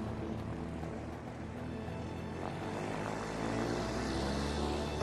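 Airplane engine from the video game A Way Out, a low, steady propeller drone that swells slightly toward the end, heard alone without talk at moderate volume.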